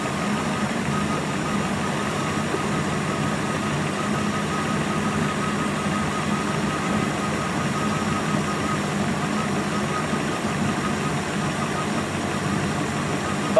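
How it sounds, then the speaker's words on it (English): Turbocharged Honda Integra engine idling while rolling slowly, a steady, even mid-low drone holding constant for the whole stretch with no talk over it. "So I'm gonna flip the dog box up and try to turn the idle down while we're moving."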